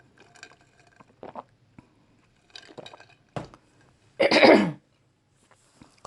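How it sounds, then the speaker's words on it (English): A single forceful throat clearing stands out near the end, preceded by scattered light clinks and small handling noises in a quiet room. "Clear my throat"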